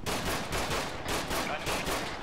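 Gunfire in the military shooter Arma 3 during a team-versus-team match on Altis: dense, continuous rattling bursts pulsing roughly every half second, loud and close, with no speech.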